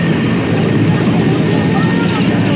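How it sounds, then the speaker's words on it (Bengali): Helicopter taking off nearby, a loud, continuous rotor and engine roar with a dense low throb that fills the whole stretch. "তো দেখো কি আওয়াজ হয় হেলিকপ্টার ওঠার সময়।"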